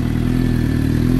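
Suzuki GSX-R 750 motorcycle fitted with an M4 full exhaust system, its engine running loud and steady close by, a deep throbbing idle with a constant low rumble throughout.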